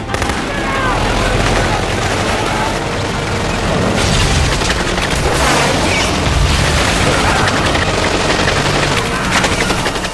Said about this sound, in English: they unleashed a relentless barrage upon the enemy stronghold.